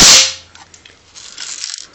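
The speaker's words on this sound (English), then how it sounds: "And we're just gonna go ahead and shoot that too." An ACM Oakley pump BB air gun fires a single loud, sharp crack right at the start, followed by a faint tail of rustling handling noise.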